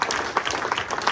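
A short burst of audience applause at a school foundation gathering, steady moderate clapping heard from within the room.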